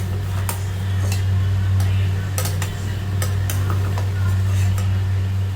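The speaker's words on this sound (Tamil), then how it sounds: "பாருங்க உப்புமா அருமையாக வெந்துருச்சு இப்போ கிண்டிக்கலாம்" A cooked wheat rava vegetable upma is stirred in a pan, giving intermittent scraping and ladle clicks against the metal over a steady low hum, close and fairly loud, with no talk.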